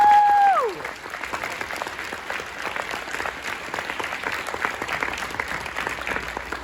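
Audience at a high school band awards banquet applauding steadily for several seconds, dense clapping right after a brief electronic tone at the start, sustained and fairly loud with no talk.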